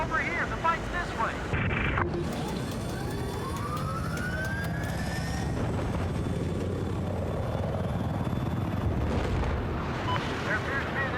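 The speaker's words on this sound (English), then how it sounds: "There appears to be an enemy chopper to your north." An enemy attack helicopter in Battlefield 4 drones steadily through a battle, with a rotor rumble mixed with gunfire, explosions and shouted voices throughout.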